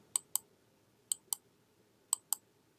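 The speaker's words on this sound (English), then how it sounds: "Click there." Six sharp clicks from a computer mouse, in three evenly spaced pairs like double-clicks, crisp and close over a faint background hiss.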